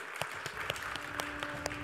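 Applause from an audience at an HR award ceremony for the nominated companies, a steady wash of clapping with a few sharper claps standing out, fairly soft and even throughout.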